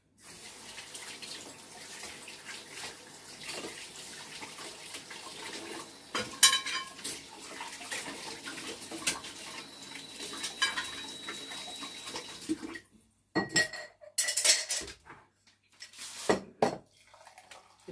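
In a kitchen where a vegan cake is being finished with ganache, a knife and metal cake tools clink against dishes. Hot water runs from a tap. The noise is busy and continuous at first, then breaks into separate rattles and splashes.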